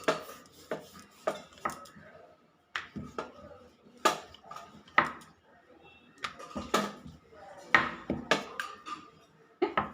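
Coconut paratha dough being rolled out with a rolling pin, giving a series of close, sharp knocks and clacks at an irregular rhythm with quiet gaps between them.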